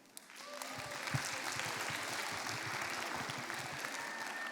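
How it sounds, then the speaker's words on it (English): A crowd of students and spectators at a junior debate showcase applauds a speaker, sustained clapping that swells quickly after a brief quiet start and holds evenly to the end. "Let's give her one more round of applause"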